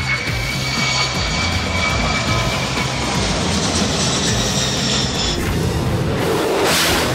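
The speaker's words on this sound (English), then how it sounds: "Planes dropping special substances to prevent a fire from spreading" Firefighting aircraft roar low overhead while dropping fire retardant, a loud, continuous engine drone with a rushing whoosh of air that swells near the end.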